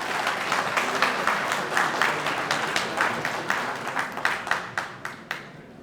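Another round of applause at a wrestling hall of fame lifetime service award ceremony, moderately loud crowd clapping that thins toward the end, leaving a few separate claps.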